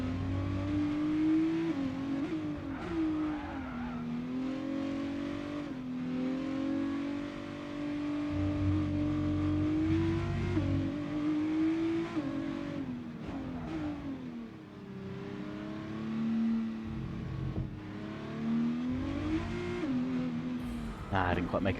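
A Formula 1 car engine in the F1 22 racing game howls continuously, its pitch climbing and dropping through gear changes and braking into a chicane, loud and steady with someone talking over it.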